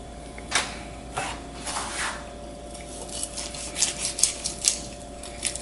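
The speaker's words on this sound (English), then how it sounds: "You can hear the crust." A knife sawing through the crisp herb crust of a cooked brisket, producing soft rasping scrapes with a few sharper crunchy crackles toward the end, close and quiet, no talk.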